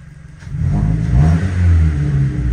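Car engine on an E-85 fuel conversion revving up as the accelerator pedal is pressed, a loud, close, rising and falling rumble that holds steady for a couple of seconds.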